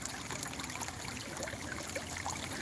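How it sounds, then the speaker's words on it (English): Creek water runs over and between rocks, a steady broadband wash of trickling and gurgling that stays even and fairly close throughout, with no talk over it. "Just listening to the water. You know what I mean? Go through the rocks, flow through the rocks."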